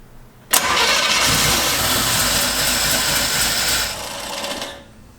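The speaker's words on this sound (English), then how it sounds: "We're gonna go for the first startup." A 1968 Chevrolet C10 V8 with a freshly installed Holley Sniper EFI cranks and catches quickly on its first startup, then runs loud and rough for several seconds before dying away, close up and with no talking.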